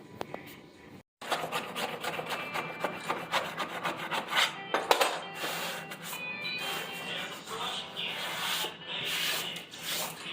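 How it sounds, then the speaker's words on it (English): A knife cutting and scraping through drywall at a corner so trim can sit flush, with dense rapid rasping strokes after a brief pause, close and fairly loud, without talk. "I will cut the drywall in so that the trim will actually sit flush"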